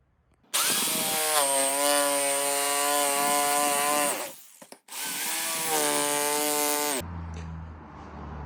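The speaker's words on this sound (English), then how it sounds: "And then I'm going to use a jigsaw and cut it out that way." A jigsaw cutting outlet openings in a backsplash template, two long loud bursts of buzzing blade with a brief pause between them, then the tool winding down at the end.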